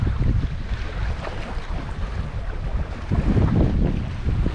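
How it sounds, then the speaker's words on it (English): Strong wind blows at a wild camping spot outdoors, buffeting the microphone with loud, gusty low rumbling and rushing noise that surges and eases throughout, with no voices. "A lot windier today than it said it was going to be."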